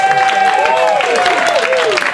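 Comedy club audience applauding as a comedian takes the stage, steady close clapping throughout with a voice talking over it.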